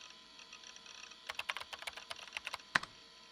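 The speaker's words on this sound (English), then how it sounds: "Typing sounds same each time." Rapid keyboard typing from the Chaos;Head Noah visual novel game, a quick burst of about a dozen soft, clicky keystrokes ending in one sharper final tap, faint and alone.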